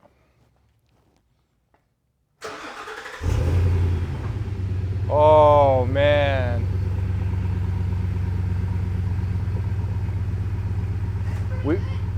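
After a stretch of quiet, a Ford Super Duty pickup engine with a new MBRP 4-inch cat-back single exhaust cranks and roars to life, then settles into a loud, deep idle near 95 decibels while a person exclaims over it.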